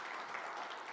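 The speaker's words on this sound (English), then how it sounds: "please give a big round of applause" Applause for team members at an Airtel corporate launch event, a steady wash of clapping from an audience, continuous and fairly even across the moment with no voices standing out.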